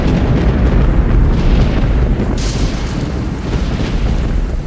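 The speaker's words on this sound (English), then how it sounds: "Thunder and lightning combine with cannon fire from the Union gunboats" Thunder rumbling together with Union gunboat cannon fire during a violent night storm over the Shiloh Civil War battlefield, a continuous loud, deep roar of booms with no voices.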